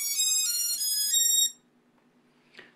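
A Hubsan H501SS drone plays a bright multi-tone electronic acknowledgement melody on power-up, loud and close for about a second and a half, followed by near silence and a faint short click.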